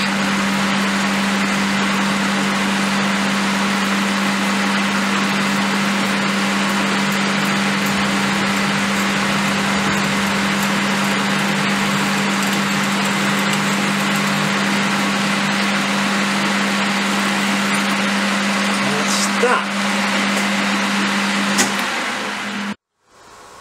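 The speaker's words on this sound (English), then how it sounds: "We're just going to drill a letter J hole in this and then thread this the same, 5/16 fine." A lathe drills a letter J hole in a BSA B44 trials motorcycle part, giving a steady, loud machine hum with a constant low tone throughout. A brief clatter comes near the end, then the machine cuts out abruptly.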